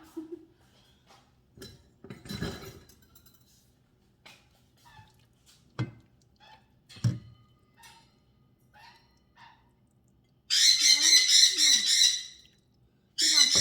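A pet bird squawks in a home kitchen where soup is boiling, letting out a long run of loud, harsh squawks close by and another burst at the end, after quieter scattered clatter.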